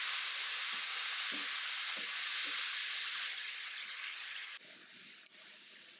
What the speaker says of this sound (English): I cook these in a little olive oil until soft